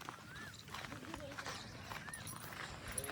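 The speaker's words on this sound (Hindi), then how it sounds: "ये देखिए बैलगाड़ी चारा रखा है, चारा रख के लेके जा रहे हैं।" A bullock cart loaded with fodder passes along a rural path beside pumpkin plants, its hooves making a steady, moderately close clip-clop over constant outdoor noise, with faint voices in the background.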